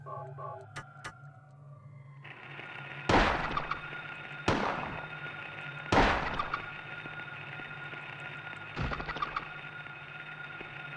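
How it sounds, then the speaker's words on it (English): A handgun fires at giant cockroaches in the horror game Silent Hill: four loud, sharp reports spaced about one to three seconds apart, each with a short ringing tail over a steady game hum. "I need a handgun to shoot these cockroaches."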